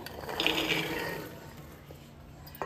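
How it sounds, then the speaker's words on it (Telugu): Water pours steadily into a pot of corn cobs set to boil, a continuous close splashing fill that eases slightly toward the end with no talking. "సో వాటర్ వేసేసి కొన్ని వాటర్ అయితే యాడ్ చేసేసాను"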